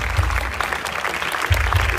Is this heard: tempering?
no